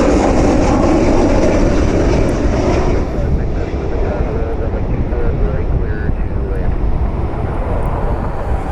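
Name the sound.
Spirit Airlines jet inbound from Orlando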